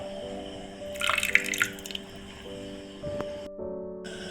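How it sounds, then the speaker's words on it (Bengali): Fresh lemon juice squeezed and dribbled into a summer juice drink, a short close burst of wet trickling and dripping against soft steady background music, with no voices. "লেবু রস দিচ্ছি আমি এখানে একটা লেবু রস দিয়ে দিচ্ছি"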